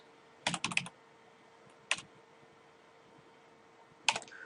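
Computer keyboard typing in short bursts of quick key clicks, a cluster near the start, a single tap midway and another brief burst at the end, close and fairly quiet over a faint steady hum.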